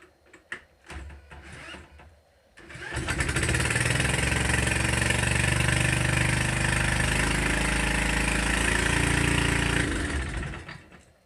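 A few clicks and clunks, then the small engine of a Bolens garden tractor left sitting for 40 years sputters to life and runs loudly and steadily for several seconds before cutting off.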